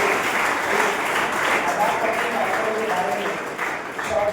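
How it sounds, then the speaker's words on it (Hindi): A school show audience claps steadily and fairly loudly for several seconds, a broad continuous wash of applause. "आपकी तालियां भी आमंत्रित करें"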